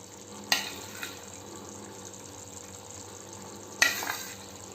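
Pork curry frying in a pan with dry bamboo shoot being stirred in, a low continuous sizzle broken by a few sharp clacks and scrapes of a spoon, two of them especially distinct.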